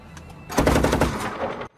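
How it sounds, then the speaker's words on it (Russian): A close, loud burst of machine gun fire from an armoured personnel carrier at a firing range, lasting a little over a second as a rapid, dense string of shots that stops abruptly. "На полигоне журналистам демонстрируют стрельбу в движении и с выбранной позиции."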